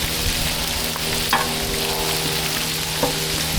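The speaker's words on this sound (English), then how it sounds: "Make sure our bacon is not burning. Steak is looking nice." Bacon and steak sizzling loudly on a Blackstone griddle, a dense continuous hiss close by with a couple of brief utensil clicks and no voices.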